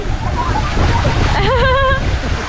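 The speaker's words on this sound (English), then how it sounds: "from the reservoir through that holes it's coming, guys. It's like a waterfall here." Water gushes from holes in a reservoir like a waterfall at a hillside zipline spot in Lambasingi, a loud steady rush close by, with voices talking and exclaiming over it.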